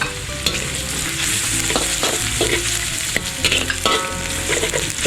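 Chili frying in a wok with garlic and ginger, a steady loud sizzle with scraping stirs and clinks of a spatula throughout, no voices.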